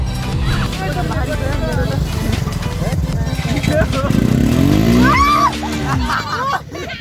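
An NK250 motorcycle stuck in desert sand in Nepal revs hard and close, its engine surging and straining in rising and falling pitch, with people talking over it.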